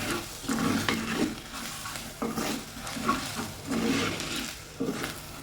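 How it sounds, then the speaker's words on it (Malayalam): Spice powders for a king fish curry roast in a hot pan on the stove that has been switched off, with intermittent scraping stirs and a soft, low sizzle close by, with no voices. "ഈ ചട്ടിയുടെ ചൂടിൽ ഇതൊന്ന് മൂത്തി വെക്കണം"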